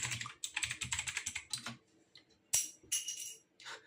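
Fingers tap on a new computer keyboard in quick clattering bursts, a fast run of keystrokes followed by a pause and a few scattered presses, close and crisp.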